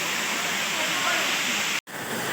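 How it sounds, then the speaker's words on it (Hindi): The Gajkalla waterfall near Gariyaband, Chhattisgarh, roars in a loud, continuous broadband rush heard from close by at the top of the falls, with a brief dropout near the end. "हमन है झरना के ऊपर में है, गजकल्ला का जलप्रपात"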